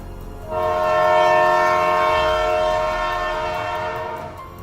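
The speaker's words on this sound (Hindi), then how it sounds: "और तभी यहाँ ट्रेन आ ही रही होती है।" A train blows a loud, sustained horn as it arrives at a station and keeps going without stopping. A steady harmonic blast holds for about four seconds over low rumbling.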